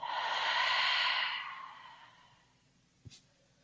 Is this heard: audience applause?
no